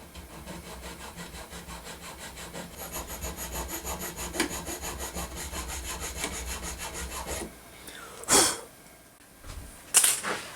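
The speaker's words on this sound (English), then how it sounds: "I'm going to go ahead and use these 2 hacksaw blades" A hacksaw fitted with two blades glued together cuts out a simple crankbait lure shape, making steady rhythmic back-and-forth rasping strokes up close, followed by a couple of sharp louder knocks near the end.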